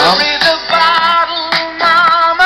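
Music coming through a small Degen radio receiver, a bright, thin-sounding song with sustained tones and periodic percussive hits, loud and continuous.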